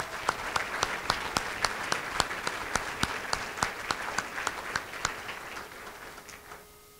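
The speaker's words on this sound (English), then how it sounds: "Another round of applause for Lynette's team" Guests at a reopening gala at the Brunnier Art Museum applaud a staff team, some sharp claps standing out near the front over a steady crowd wash that thins and fades toward the end.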